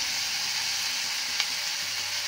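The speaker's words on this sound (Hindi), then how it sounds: "उसको अच्छे से हम लोग भून देंगे। टमाटर भून रहे हैं" Tomatoes fry with turmeric and salt in a pan, giving a steady, even, close sizzle with one brief click partway through and no talking.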